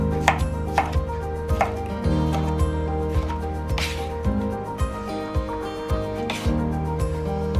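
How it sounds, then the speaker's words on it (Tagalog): Knife roughly chopping tomato on a cutting board, with a steady run of sharp, close thuds and knocks that come in quick bursts over a low, steady background hum. "Hiwain na natin ang roughly chop."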